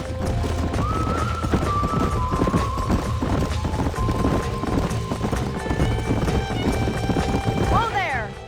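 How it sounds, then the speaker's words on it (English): Horse hooves clip-clop steadily through a Red Dead Redemption game scene, with a whinny, a few tonal music or effect lines, and voices talking over the busy hoofbeats. "These are fine horses."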